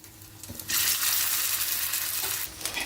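Leftover-rice balls frying in a little oil on a tawa, a loud, close sizzle that swells suddenly and crackles steadily for a couple of seconds before easing off.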